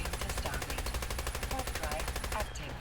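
Rapid automatic fire from a marksman SMG in the survival game Rust, sustained steady bursts for nearly the whole stretch before cutting off near the end, loud and dense, with game ambience mixed underneath.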